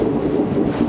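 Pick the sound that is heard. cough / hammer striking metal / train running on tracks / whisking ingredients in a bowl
train running on tracks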